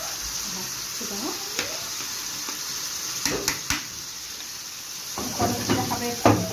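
Garlic fries in a pan with a steady close hiss and sizzle, broken by light clinks and stirring taps against the pan while someone speaks over it.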